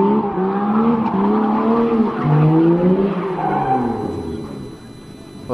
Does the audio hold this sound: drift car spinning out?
yes